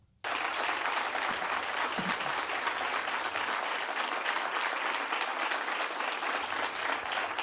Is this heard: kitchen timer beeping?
no